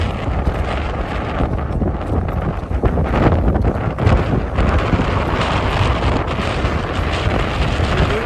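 Gusty wind blasts loudly and continuously against the microphone on an outdoor pilgrimage walk to Kataragama by the Kumukkan river, rising and falling in strength with no talking.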